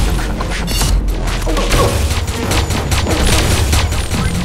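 Rapid, continuous gunfire from the Reflector gun in the shooter game Pixel Gun 3D, a loud dense fusillade of repeated shots sustained throughout with no pause.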